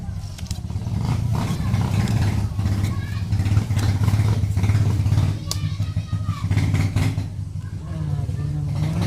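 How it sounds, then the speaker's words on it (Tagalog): A motorcycle engine drones loudly and steadily with rising revs and some rattling, close by, while voices talk over it. "Ano naman ang motor na yun?"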